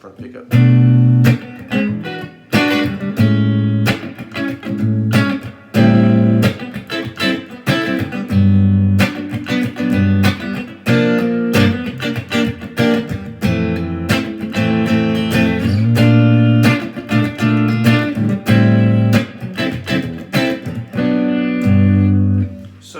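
Clean electric guitar on its front pickup, played through a bass amp with spring reverb, strums a steady rhythmic pattern of chords, bright and punchy, with clipped muted strokes between them.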